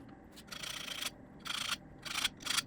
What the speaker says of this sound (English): I'm just gonna file a little bit here if there's burr at the end on the shoulder.